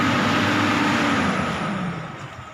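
A Kobelco SK200-1 Mark 3 excavator engine running under hydraulic pump load, a loud, close, steady diesel roar that gradually drops in pitch and eases off toward the end.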